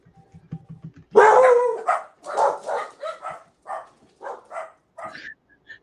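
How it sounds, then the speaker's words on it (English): A dog barks loudly and repeatedly at close range in a burst of sharp, excited barks, preceded by a few soft low thumps. "Dogs always startle me."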